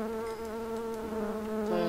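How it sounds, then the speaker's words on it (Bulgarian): A bee's steady, close buzz drones on alone with a strong harmonic hum and slight wavering in pitch. "Това е някаква пчела."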